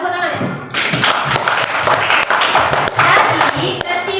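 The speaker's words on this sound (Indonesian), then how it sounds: "Ya, tepuk tangannya." A small group in a classroom breaks into lively clapping after a short pause, uneven, close-up hand claps with some thumps, continuing steadily with a few voices mixed in.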